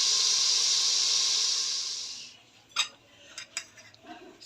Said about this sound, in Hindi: अब मसाला भुनना शुरू हो गया